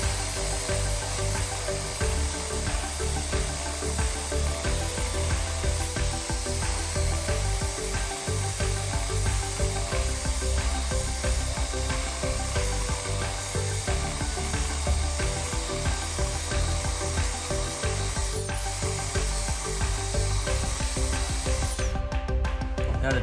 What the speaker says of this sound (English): And then I use my little mini belt sander.